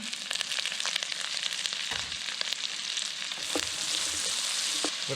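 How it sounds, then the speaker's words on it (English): Onions caramelizing with sugar in a pan hiss and sizzle steadily, with a few scattered crackles and light stirring scrapes, close and moderately quiet, no talk. "I'm going to start off by caramelizing some onions"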